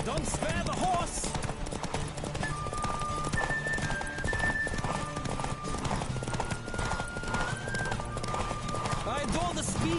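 Horses gallop with steady clip-clop hoofbeats and occasional whinnies during a race in the video game The Witcher 3: Wild Hunt, loud and continuous, with riders calling out over the hooves.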